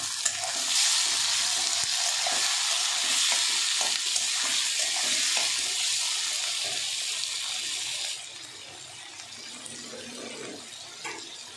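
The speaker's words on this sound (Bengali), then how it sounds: "চিংড়িটাও ভাজা হবে একসাথে।" Shrimp and onion frying together in oil, a loud close sizzle with stirring scrapes and clatter that drops to a quieter, softer bubbling after a sudden change partway through; no one speaks.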